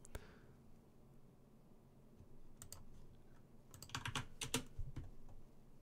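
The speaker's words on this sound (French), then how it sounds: "on va apprendre à écrire avec le clavier japonais sur mon bah, ordinateur" Keys on a Japanese computer keyboard clatter softly, starting sparse and building into quicker clustered bursts of close clicks near the end, against a quiet room with no voices.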